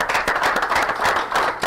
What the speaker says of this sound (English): Clap for Lath real quick